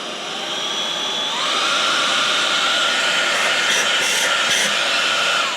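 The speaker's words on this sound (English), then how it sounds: "the Proscenic P11 Mopping Vacuum Cleaner" A Proscenic P11 cordless mopping vacuum cleaner runs with a steady, loud whine, its pitch stepping up partway through as the power is raised, with a few brief fluctuations near the end.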